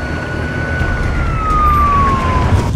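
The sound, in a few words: ambulance siren in a TV drama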